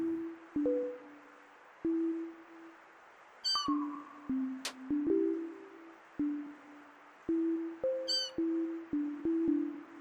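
Repeated electronic cat meows from a Deltarune Chapter 4 minigame, short tonal chirps recurring in quick irregular bursts with a couple of higher sweeping squeaks, loud and alone.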